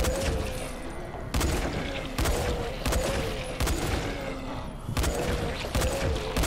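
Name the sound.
gunshots in the video game Dying Light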